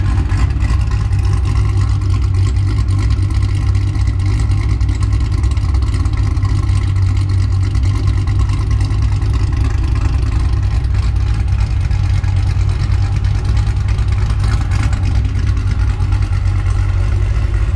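A 2016-2024 Camaro SS V8 with a forged LT1 and fueling upgrades drones steadily and loudly throughout while accelerating, a deep sustained rumble with a slight rise in pitch, no voices.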